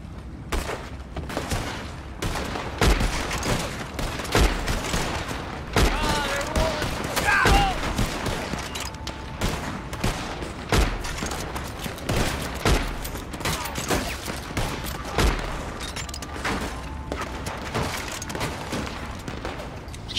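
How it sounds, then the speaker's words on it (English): Gunshots fired into the air in the Western video game Red Dead Online, a long run of rapid, overlapping cracks repeating through the scene with some pauses, over steady background noise, with voices faintly under the shots. "I'm gonna fire up some shots in the air so they know it's on"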